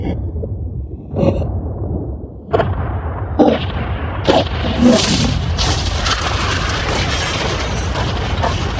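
Blasts go off against a yacht in rapid succession, sharp booming reports that pile into a continuous roar of explosions and crashing debris, loud and close.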